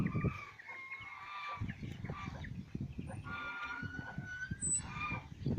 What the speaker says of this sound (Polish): Aż tutaj kura przyszła z tymi kurczakami.